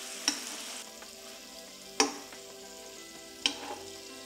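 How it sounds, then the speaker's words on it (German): Marinated chicken pieces sizzle in a frying pan, a steady hiss with a few sharp clinks of a utensil against the pan, close up and without talk. "Die marinierte Hähnchenfleischstücke werden auf beide Seiten goldbraun angebraten"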